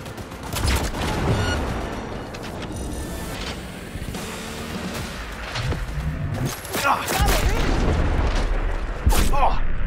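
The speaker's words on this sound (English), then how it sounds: "The cops are shooting at me now." Police gunfire in the video game Cyberpunk 2077, rapid bursts of shots and booming impacts amid game sound, with a voice talking over parts of the action.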